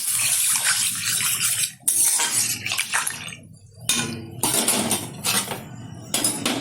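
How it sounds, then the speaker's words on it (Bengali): Water poured into a pan of curry with vegetables for a sea fish and taro-potato stew, a close, loud splashing pour in several bursts with clinking pan and utensil sounds between them. "এখন দিয়ে দেবো পরিমাণ মতো জল।"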